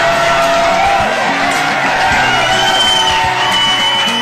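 Loud, dense crowd noise fills an auditorium at a book launch at Constitution Club, with applause and cheering running steadily throughout and no pauses.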